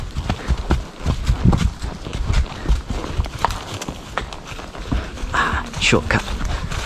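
Horse hooves clip-clop steadily on a woodland trail ride at Bacton Woods, close and continuous in an uneven trotting rhythm, with a rider's voice speaking briefly over them.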